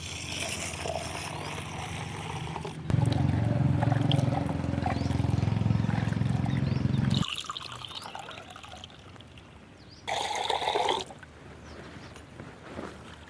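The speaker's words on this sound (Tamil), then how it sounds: "தண்ணி ஊற்றி கழிச்சிக்கலாம்." Water is poured over soaked lentils to wash them in a village kitchen, giving a loud, rushing splash and swirling, then quieter sloshing and a brief second pour.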